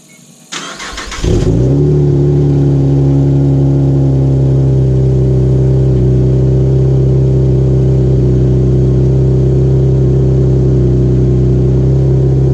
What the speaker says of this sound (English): Now I'm going to fire it up and see if there is any leaking going on